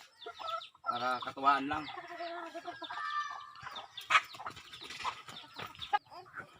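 Backyard chickens clucking and calling near a black hen in a rural province, the bird sounds interleaved with a person talking close by.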